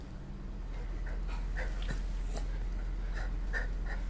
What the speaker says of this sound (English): Sokka's wolves are not happy about it. No, they probably hear the guard dogs and they want to protect me